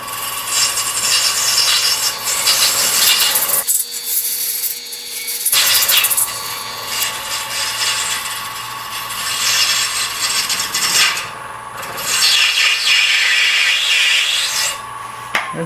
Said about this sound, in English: You can see these big long shavings coming off. The sound changes.